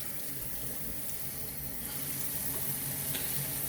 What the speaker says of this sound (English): And I'm going to rinse it.